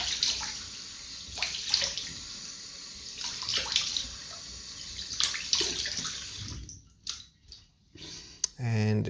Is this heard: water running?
yes